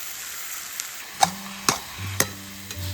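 Eggplant mash for begun bharta frying in a pan, with a soft steady sizzle broken by several sharp scrapes and knocks of a spoon stirring against the pan, close and clear with no talk.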